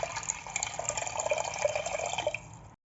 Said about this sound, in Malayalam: അപ്പോൾ ഇതിലേക്ക് ഈ പരിപ്പിൻ്റെ മുകളിൽ നിൽക്കുന്ന പാകത്തിൽ ഞാൻ വെള്ളം ഒഴിച്ച് കൊടുത്തിട്ടുണ്ട്.